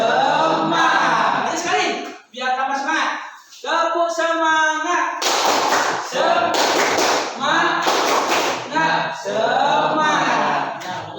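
Schoolchildren in class performing the 'tepuk semangat' clapping routine: a teacher's voice and chanting come first, then dense bursts of rhythmic group claps and taps, loud and near, alternating with more chanting.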